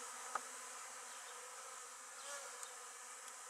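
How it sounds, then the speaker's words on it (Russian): Honey bees fly around their hives in a sunny, warm apiary, making a faint, steady, continuous buzz with no voices. "Вчера пчелки очень хорошо облетелись."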